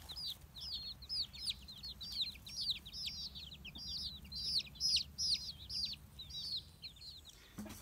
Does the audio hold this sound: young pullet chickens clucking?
yes